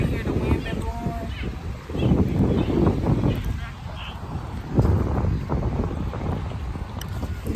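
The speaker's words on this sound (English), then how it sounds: "We can hear the wind been blowing." Wind gusting and buffeting a microphone at a beach, a steady roar with louder surges, mixed with distant voices and water in the background.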